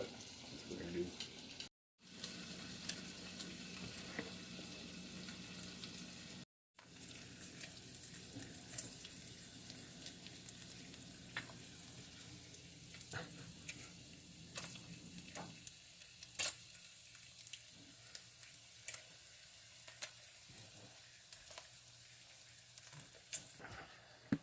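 Thin and thick cut bacon, MJ Homestead and Hormel, fry together in a pan with a quiet, continuous crackling sizzle, broken by a couple of brief dropouts and occasional sharper pops.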